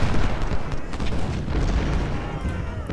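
Artillery and musket fire in the Civil War strategy game Ultimate General: Civil War, a continuous dense battle din of booms and crackling shots, loud and layered, with no clear gaps.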